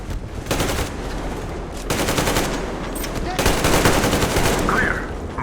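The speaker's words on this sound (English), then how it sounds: "Covering fire for the Colonel." Machine gun covering fire in Metro Exodus comes in three long, loud bursts of rapid, close automatic shots separated by short gaps, with brief voice chatter faintly in the mix.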